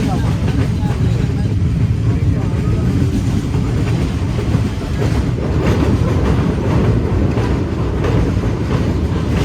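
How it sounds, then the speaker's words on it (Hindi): The Karakoram Express on the Karachi to Lahore line in winter passes slowly, a loud, close, continuous rumble of wagons with steady clickety-clack of wheels over the track. "जिस वजह से ट्रेन काफ़ी स्लो गुजरी है"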